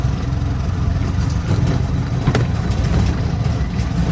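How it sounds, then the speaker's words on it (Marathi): An auto rickshaw engine drones loudly and steadily throughout a village ride, a constant close-up mechanical roar with road rumble and no speech. "आता मी निघलो रिक्षावर झाला आमच्या गावांशी"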